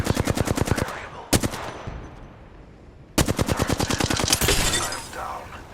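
Apex Legends firefight with loud automatic weapon bursts, a rapid string of sharp shots, a single heavy crack, then a longer sustained burst, all close and dominant.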